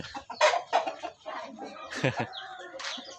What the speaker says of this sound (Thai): ไก่ไก่